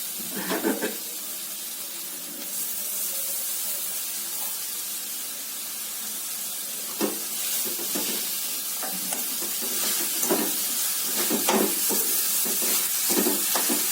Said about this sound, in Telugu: క్యారెట్ వేగిపోయింది నెయ్యిలో పచ్చివాసన అంతా పోయి శుభ్రంగా వేగిపోయింది